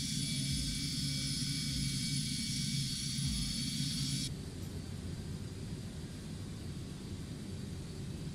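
Boeing 727-200RE jet engines in Microsoft Flight Simulator 2024 give a steady, loud broadband roar with a high whine during the first half, then drop to a quieter, even rumble partway through.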